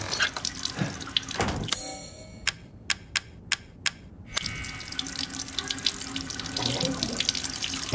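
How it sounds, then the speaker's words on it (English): In Resident Evil Village, a tap runs steadily into a sink as a wedding ring is washed, with a brief pause in the flow broken by a series of evenly spaced ticking clicks. "I'm just gonna wash my wife's precious wedding ring off in water"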